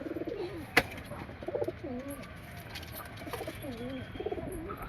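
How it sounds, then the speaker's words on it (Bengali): Domestic pigeons cooing inside a coop, several soft throaty coos repeating at a relaxed rhythm nearby, with a single sharp click or tap partway through. "তো চলো পায়রাগুলো ছেড়ে দিই, তারপরে খেতে দেবো"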